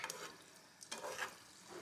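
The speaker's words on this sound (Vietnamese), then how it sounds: "Giờ em sẽ cho vào nha, cho bánh vào chiên mẫu cho mọi người xem ha." Fried buns (bánh bao chiên) sizzle and bubble as they go into hot oil, with uneven crackling bursts over a brief, fairly quiet stretch.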